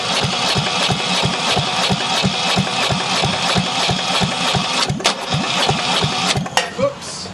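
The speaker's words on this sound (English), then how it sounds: "So then I just run the engine on idle, I mean without starting it, because I don't want to have the noise of the exhaust" A marine diesel engine cranking over without firing to pump water for winterizing, giving a rapid, even chug of compression beats that is loud and close and goes on throughout, with a few clunks near the end.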